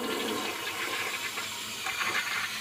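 A toilet flushes with a loud, continuous rush of swirling water that holds steady for a couple of seconds, close and alone without any talking.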